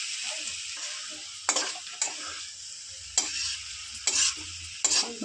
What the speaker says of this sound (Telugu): రైస్ వేసుకుని ఒకసారిగా కలుపుకోండి బాగా కలిసేలాగా